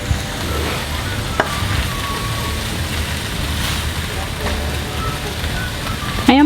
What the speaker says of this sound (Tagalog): ilalagay na natin yung ating puso ng saging. So, igisa lang natin.